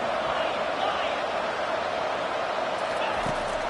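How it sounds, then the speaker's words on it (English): Steady, dense crowd roar fills a stadium at a college football playoff game involving the Wolverines and Oregon, with a commentator talking over the constant wash of noise. "And here comes the noise. This crowd is trying to inspire this defense to make a big red zone stop."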